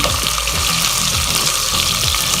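Onions frying in hot oil for achari bhindi, a loud, constant crackling sizzle close by with no pauses.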